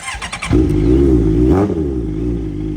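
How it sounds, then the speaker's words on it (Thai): The engine of a 2016 Honda CB650F motorcycle idles close by with a steady, throaty hum, then rises briefly in a short rev and settles back. "เดี๋ยวมาฟังเสียงเครื่องกันนะครับ"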